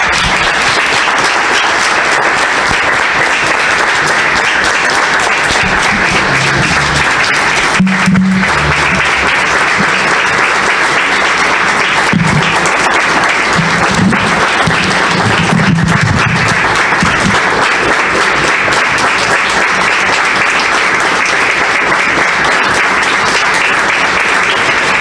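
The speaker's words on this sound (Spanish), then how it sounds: "ahora vamos a hacer un minuto de aplausos para Juan Toscano García de" A crowd gives a minute of sustained applause in tribute to Juan Toscano García de Quevedo, loud and continuous, with scattered voices and louder bursts in the middle.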